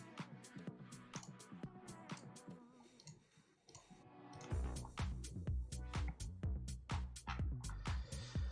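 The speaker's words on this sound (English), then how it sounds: "sound test is gonna sound like a keyboard" Mechanical keyboard typing test, a rapid run of close, crisp key clicks and clacks, lighter at first, then a denser, heavier burst of keystrokes after a brief lull.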